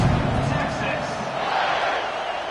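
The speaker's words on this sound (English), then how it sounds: "this crowd is feeling themselves after that last drive" Dense football stadium crowd noise at kickoff in a Gators versus Longhorns game, a loud sustained roar of cheering voices filling the space without letup.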